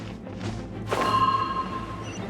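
A glider in Genshin Impact drops a bomb, which lands with a single thud, followed by a sharp whip-like burst and a ringing high tone that fades out.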